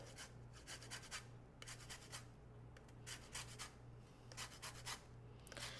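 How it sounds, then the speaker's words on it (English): Lime being zested into a bowl, quiet repeated scraping strokes in quick clustered bursts with brief pauses between, close and soft, with no talking. "Now we want to zest the lime into the bowl."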